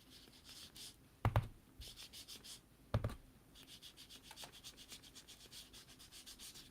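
Coffee-coloured ink blended onto paper for a peacock-themed card project, a quiet steady rubbing and scrubbing with two sharp taps, up close with no speech.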